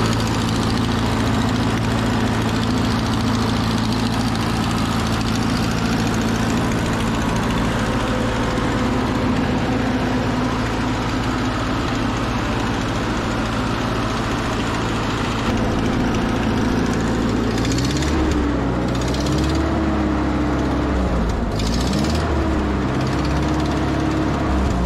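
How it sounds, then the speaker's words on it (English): A heavy 80-year-old Ford 9N tractor engine runs steadily at idle, loud and close with a rough puffing exhaust from a leak at cylinder number 4, its pitch wavering briefly near the end. "There's also a pretty good exhaust leak on the back cylinder number 4."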